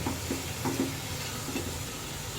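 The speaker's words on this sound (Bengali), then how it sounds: "এবার মাংসগুলোকে আমি মশলা দিয়ে ভালোভাবে কষিয়ে নিব।" Beef pieces being sautéed with spices in a pan for khichuri, a soft continuous sizzle with a few light stirring scrapes, close and alone.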